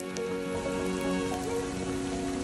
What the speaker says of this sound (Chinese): 下雨了，雨超大